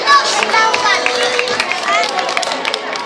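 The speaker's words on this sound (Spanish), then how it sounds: "Un aplauso para el gato y el perro que va de regalo." Outdoor crowd clapping at a costumed dog show in a shopping plaza, brisk and loud applause mixed with cheering and babble over a few seconds.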